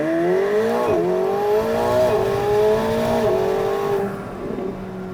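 A 2024 McLaren 750S supercar launching hard from a standstill, its engine note climbing steeply through rising harmonics with brief dips at each gear change, loud and close for about four seconds before easing off.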